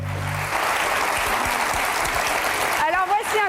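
A studio audience on a French television prank show bursts into dense applause, steady and fairly loud for a couple of seconds before a voice speaks over it.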